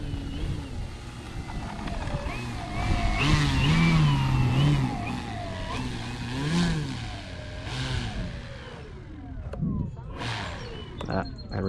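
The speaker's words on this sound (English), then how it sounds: "This plane does not like to slow down." A NoName Extra 330L ARF electric RC airplane flies overhead, its motor whining and rising and falling in pitch as it passes and turns, heard from outdoors at a moderate distance.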